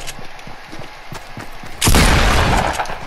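A single loud, sharp crack from a hunting rifle in a shooter game, landing late and ringing out over a quieter background of clattering game sounds, with no voices.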